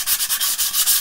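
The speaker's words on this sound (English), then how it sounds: "So I'm going to rub these down now." Wooden dollhouse pieces for a bedroom being rubbed down with sandpaper after a first coat of finish, a close, steady back-and-forth scratching in about eight quick even strokes.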